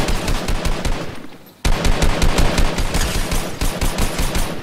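Rapid automatic gunfire from Fortnite Mobile rattles in dense, loud bursts, breaking off for a brief moment before the steady firing resumes.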